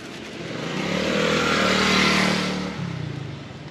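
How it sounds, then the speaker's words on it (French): A small motorcycle passes close by on a desert road in Pakistan, its buzzing engine swelling louder toward the middle, then dropping in pitch and fading as it moves away. "Une petite moto."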